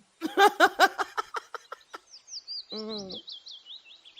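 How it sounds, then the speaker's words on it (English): A bird sings nearby: a series of loud, descending chirps, then a trilling call and a long run of high warbling notes. "I hear the birds now."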